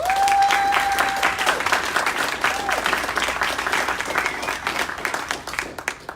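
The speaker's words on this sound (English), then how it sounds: "let's just give these guys a quick round of applause" An audience applauds loudly, dense clapping that holds steady and slowly thins out, with a brief whistle-like tone near the start.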